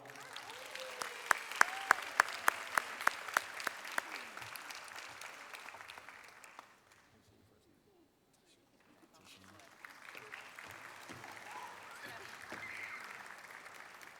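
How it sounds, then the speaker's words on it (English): An audience applauds an honoree at an inspirational heroes awards event, a long, fairly distant clapping from many hands that fades to near silence midway, then swells again, with faint voices mixed in. "Round of applause for Jawan."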